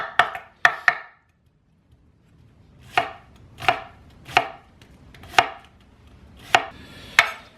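Knife chopping scallions on an acacia wood cutting board: a quick burst of three sharp cuts, a pause, then six evenly spaced, crisp knocks, close and clear with no talking.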